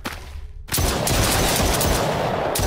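Zombie-shooting gunfire in The Brookhaven Experiment VR game: after a brief quiet gap, a loud, dense burst of rapid shots erupts and keeps going without pause, close and harsh.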